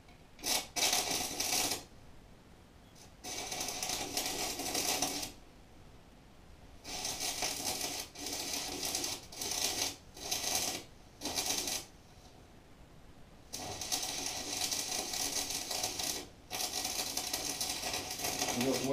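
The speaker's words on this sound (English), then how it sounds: "Welding by feel here" Arc welding done by feel, with harsh crackling, sputtering bursts that start and stop in irregular runs of a second or several seconds, separated by short quiet pauses, loud and close.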